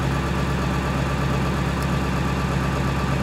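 Truck engine idling on a Power Hungry Performance Hydra tuner's 1,000 horsepower tune, giving a steady, close, low rumbling drone with even vibration and no talk over it.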